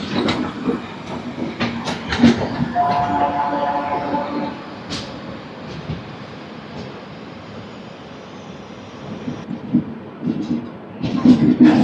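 A superfast express train hauled by a WAG-9 locomotive pulls into Secunderabad railway station, with rolling rumble, rail clatter and brief squeals, and someone talks over it at times.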